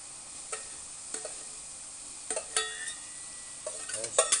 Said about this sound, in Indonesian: Kita tumis dengan bumbu.